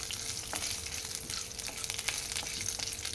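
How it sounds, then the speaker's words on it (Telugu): Dried red chili and curry leaves, with chana dal and urad dal, frying in hot oil for a beetroot pachadi tempering: a steady close sizzle with scattered crackles and stirring scrapes. "ఒక ఎండుమిర్చి, కొద్దిగా కరివేపాకు ఇలా వేయించుకోవాలి."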